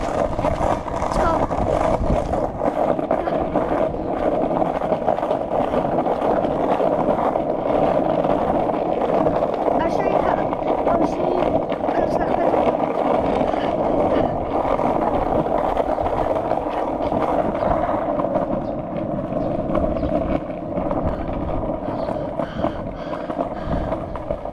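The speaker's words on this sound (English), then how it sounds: "let's go for a skateboard ride" Continuous rolling rumble of skateboard wheels on pavement during a ride, loud and close, with a steady gritty roar and small scrapes and clicks throughout.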